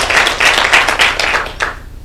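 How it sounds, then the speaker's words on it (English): Conference audience in Kenya breaking into a short burst of applause, loud clustered hand claps in uneven pulses that thin out and stop near the end. "Clap for yourself for participating also."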